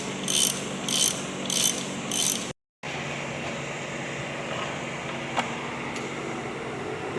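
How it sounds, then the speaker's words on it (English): A torque wrench clicks and ratchets while engine bolts are tightened to 18 foot-pounds on a K5 Blazer engine build, with four rapid rhythmic bursts of ratcheting followed by a brief gap and faint mechanical ticks. "once I get them run in, I'll break out the torque wrench here in a second"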